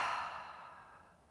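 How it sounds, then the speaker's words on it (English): A single long exhale through the mouth during a Pilates and meditation session, a breathy sigh that starts fairly loud and close and fades away over about a second, with no talk. "And exhale out your mouth."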